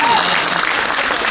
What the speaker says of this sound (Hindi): हाँ, ताली बजा दो, बजा।